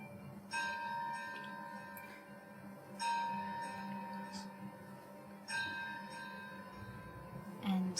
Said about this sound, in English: And then you hear the sounds of bells in the distance.